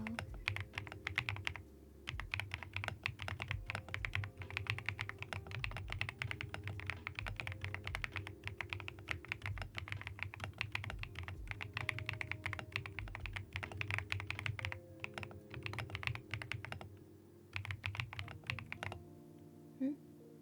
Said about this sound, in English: this is actually me typing kind of slow